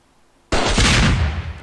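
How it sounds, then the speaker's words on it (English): A rocket launcher fires in the video game Raze 3: after near silence, one sudden loud blast erupts and rolls into a sustained roaring rumble that slowly fades. "Yep, that's a rocket launcher."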